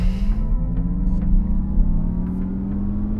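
A 2024 Acura ZDX Type-S, a 500-horsepower electric SUV, launching hard, its rising motor whine climbing steadily in pitch over a deep road and wind rumble, loud and close throughout.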